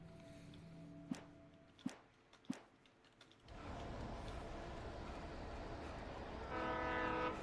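In the video game Alan Wake, a few sharp metallic clicks sound in near quiet before a train rumbles in loudly, its steady roar building and joined by tonal horn-like notes at the end.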